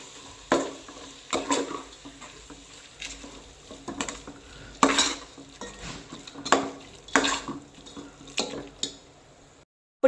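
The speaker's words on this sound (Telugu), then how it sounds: "ఇప్పుడు ఇందులోనే 1 కప్ పెరుగు, ఇది కూడా బాగా మిక్స్ చేసుకుందాం." A spoon stirs a cup of yogurt into tomato rice in a pot, making soft, irregular scrapes and clinks against the metal, close by and fairly quiet, with short pauses between strokes.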